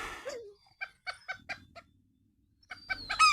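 Chickens near a trapped cougar cluck in short, close bursts, a series of clipped calls with pauses, ending in a rising squawk.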